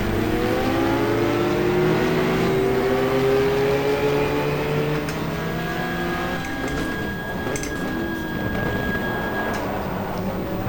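A Porsche race car engine from the GTR2 racing game, a Jürgen Barth and Walter Röhrl car at Suzuka, drones steadily with rising and falling revs, loud and continuous, as gear changes shift the pitch throughout.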